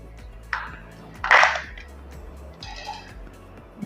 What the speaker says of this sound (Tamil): இப்போ நம்ம இந்த டோரை வந்து ஓப்பன் பண்ணிடலாம்.